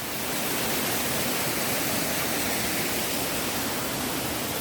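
A waterfall beside Iljuam hermitage on the Nosan Eight Scenic Views trail, surrounded by rock, pours in a steady, dense broadband roar that holds evenly from start to finish with no voices over it.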